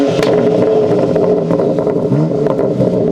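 A BMW X3 M Competition SUV engine in Sport Plus mode revs hard and close, a loud sustained growl with crackling and a shifting pitch.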